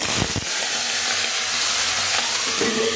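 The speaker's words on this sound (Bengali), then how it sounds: "মাছগুলো ভাজা হোক" Fish frying in hot oil in a home kitchen, a steady dense sizzle that holds loud and close throughout, with a brief clatter near the start.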